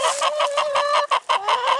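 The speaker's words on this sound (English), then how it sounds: "All the chickens are happy to see me." Chickens in a spring orchard clucking close by in a quick, steady run of bright calls, loud and continuous with only a brief pause.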